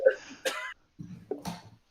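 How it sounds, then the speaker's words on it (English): A haggard, raspy cough comes in a few short rough bursts with brief gaps, close and dry, likely a person voicing the cough for a tabletop roleplaying character. "you cough haggardly"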